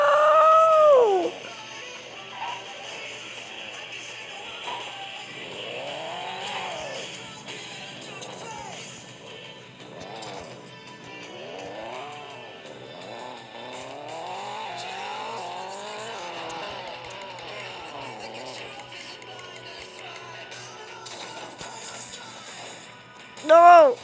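Car driving and crashing in the mobile game Extreme Car Driving, with rising and falling engine revs and repeated swooping whines, sharp bursts at the start and end, and faint voices over the engine noise.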